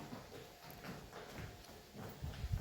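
Soft buffalo hoofbeats plod along at a steady walking pace, fairly close, with low ambient noise in the background.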